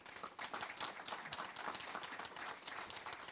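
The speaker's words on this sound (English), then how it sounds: "Will you please give them a round of applause?" An audience at a dinner panel gives sustained applause, dense and even clapping from many people filling the room at a moderate, somewhat distant level.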